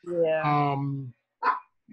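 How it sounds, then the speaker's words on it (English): A dog lets out a drawn-out bark or howl, then a shorter bark after a pause; a person speaks briefly as well. "I guess you can hear my dog barking."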